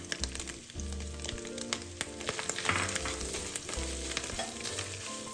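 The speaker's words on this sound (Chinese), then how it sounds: "接着再将菜脯倒入，" Chopped preserved radish is stir-fried in hot fried-shallot oil, sizzling steadily close up while a spatula scrapes and tosses it in irregular strokes.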